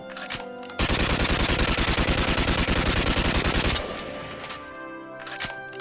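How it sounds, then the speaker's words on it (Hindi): In the video game Free Fire, a machine gun fires into the air as a ceremonial salute, producing a loud, fast, evenly spaced burst of shots that runs for about three seconds and then gives way to quieter game ambience. "चलो सब हवाई फायरिंग करो।"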